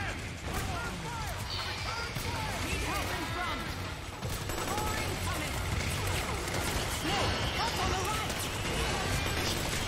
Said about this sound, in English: I'm gonna use my Mark II to take down the enemies